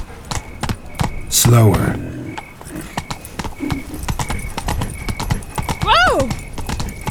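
Roach, a horse in The Witcher 3, clip-clops steadily through the city of Beauclair, hooves beating in a regular rhythm with a whinny partway through and a voice speaking over the footfalls.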